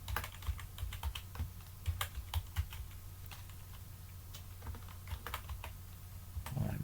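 Fingers tap out a password on a computer keyboard in quick irregular bursts of close, light key clicks, with short pauses between strokes and no voices.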